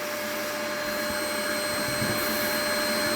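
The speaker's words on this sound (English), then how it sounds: "so the vacuum cleaner's doing its job properly" A vacuum cleaner hooked to a sand blast cabinet runs loud and steady, a constant close whine with a sustained tonal hum and no break or talk.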